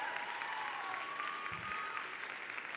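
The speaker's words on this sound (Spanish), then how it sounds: "Dale un fuerte aplauso a Dios." A church congregation at a worship service applauds, a fairly quiet wash of many hands clapping at a distance, with faint voices and a brief low thump partway through.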